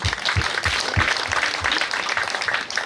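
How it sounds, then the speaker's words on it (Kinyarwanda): Guests at a Rwandan dowry-giving ceremony break into sustained applause, a loud, dense mass of clapping with soft low thumps pulsing underneath, continuing without pause and with no talking. "amashyi menshi"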